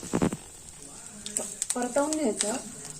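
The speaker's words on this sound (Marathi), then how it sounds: "मीडियम फ्लेमवर हे खोबरं व्यवस्थित असं सोनेरी रंग येईपर्यंत परतवून घ्यायचं" Grated fresh coconut roasting in a pan over medium flame for a Malvani masala, stirred with scraping clatter and soft sizzle, close by, with a voice speaking briefly over it.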